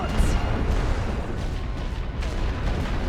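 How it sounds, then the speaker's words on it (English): Continuous dense rumble of artillery and explosions on a Great War Western Front battlefield in a strategy video game, booming steadily and loudly throughout with no pauses. "Lots of artillery and explosions going on."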